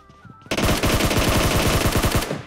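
Rapid automatic gunfire from a PUBG Mobile match, a loud sustained burst of many shots in quick succession lasting about two seconds after a faint background hum.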